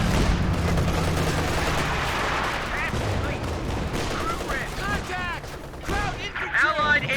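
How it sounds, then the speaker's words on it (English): A machine gun fires in Company of Heroes 2 during a 2v2 battle, bursts of automatic gunfire amid a dense wash of battlefield noise, with scattered shots and other effects layered on top. "Desperate to hold on to this machine gun here."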